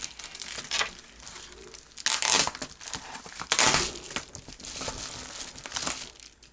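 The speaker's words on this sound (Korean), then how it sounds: "하나만 뜯어볼게요." Plastic membership sticker packet being torn and crinkled open by hand, a run of crisp crackling rustles with two louder bursts of tearing, close up and without talk.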